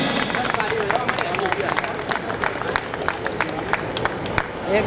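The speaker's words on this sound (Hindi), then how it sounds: "जोरदार ताली करतल ध्वनि से स्वागत करें।" Guests at a school retirement function give an honoree a burst of applause: dense, continuous clapping from a crowd, with a murmur of voices mixed in throughout.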